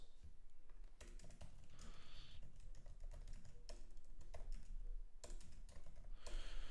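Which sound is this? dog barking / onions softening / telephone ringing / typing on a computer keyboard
typing on a computer keyboard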